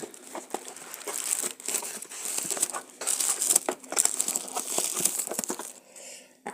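A box of handmade chocolate-covered fruit being opened at a market, with close crinkling and rustling of packaging in irregular bursts and brief pauses.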